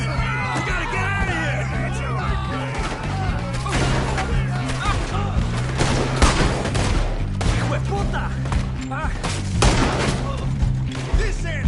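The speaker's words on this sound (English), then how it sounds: "Shoot that man!" Dense gunfire rattles through a PS4 video game shootout, bursts of shots and crashes piling up continuously amid game characters' yells and shouted dialogue, loud and busy throughout.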